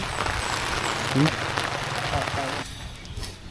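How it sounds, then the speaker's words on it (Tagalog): Heavy rain pours down in a dense, continuous patter that stays loud and close, with brief voices in the background before the downpour eases slightly near the end. "Kaso, pagdating na lumakas ang ulan."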